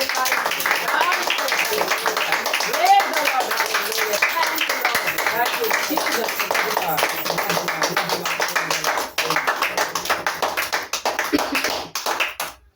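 Loud applause and clapping from a church congregation giving praise before prayer, dense and continuous for most of the stretch with a brief dip near the end.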